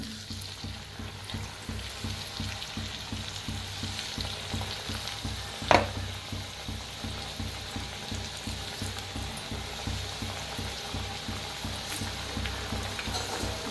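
Chakli frying in hot oil, a continuous bubbling sizzle heard close up with a regular crackling pulse and a single sharper clink or scrape near the middle.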